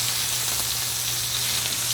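Steak searing in a hot pan with butter, a dense continuous sizzle heard up close and loud with a constant low hum beneath.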